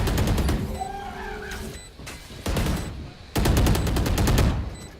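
Gunfire in a Valorant video game match comes in rapid bursts of automatic shots, loud and close, with brief gaps between three volleys and faint whizzing effects in between.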